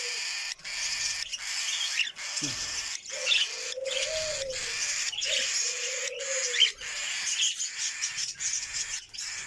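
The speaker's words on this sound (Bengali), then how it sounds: "এ হচ্ছে পাখিগুলো আমার সবগুলো পাখি" Pet cockatiels and budgerigars on a bird farm chirp and whistle steadily close by, with a few sliding call notes standing out over the continuous chatter.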